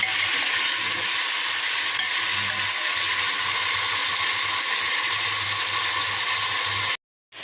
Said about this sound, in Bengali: মুরগি কষানো হয়ে গিয়েছে এই যে তেল বেরিয়ে এসেছে